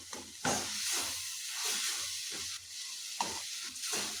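Onion, tomato and masala spices frying in a pan for an egg masala, giving a steady close hiss and sizzle with a few soft stirring scrapes and no talk.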